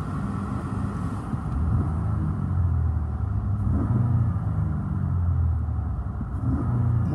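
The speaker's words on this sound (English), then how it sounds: "Motor sounds great." A 2014 Chevy Impala LT's engine idles steadily from inside the car, a continuous low rumble with a faint rev at the start, close and moderately loud with no talking.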